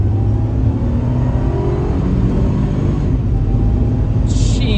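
A Mercedes C32 AMG Carlsson with a supercharged V6 and manual control accelerates hard, its engine a loud, steady rumbling drone heard from inside the car, with no talk.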